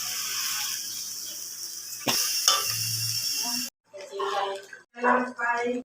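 Flower pickle being stirred in a pan as salt is added, with scraping and light clatter of a utensil against the pan, close by, broken by short bursts of talk.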